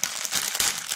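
A plastic bag of Lego pieces is torn open and crinkled, giving a steady, close rustling with sharp crackles throughout the second.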